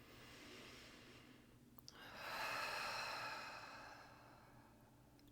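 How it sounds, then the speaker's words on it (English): Slow, deep breathing through the nose and out through the mouth during a calm guided meditation: a soft, close inhale and a longer, louder airy exhale that fades away, with no talking. "We're going to take a couple nice deep breaths in through the nose and out through the mouth."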